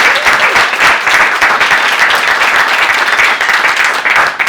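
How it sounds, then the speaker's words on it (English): An audience claps loudly and steadily for a speaker at the close of an interview session, a thick sustained round of applause with no break. "Can we give a big round of applause and say thank you to Seth?"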